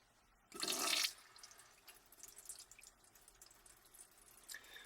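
Water spurts from a homemade hand pump built from an air mattress pump in a small car camper: one brief loud gush, then faint drips and trickling over quiet background.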